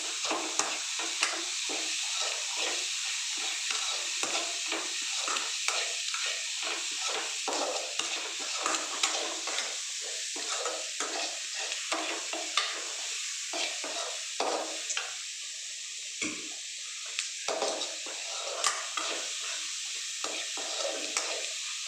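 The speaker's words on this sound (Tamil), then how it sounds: "இப்போது நல்லா வதக்கிடலாம்" Carrots and beans are stir-fried in a pan, with continuous gentle sizzling and frequent scraping stir strokes heard up close, with no talking.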